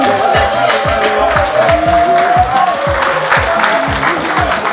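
Audience applause at a municipal installation ceremony in Batcham, steady dense clapping from a large crowd filling the whole stretch with faint background voices.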